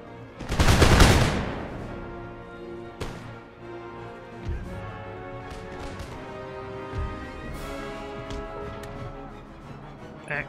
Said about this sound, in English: You guys fire a volley into those Hungarian hussars.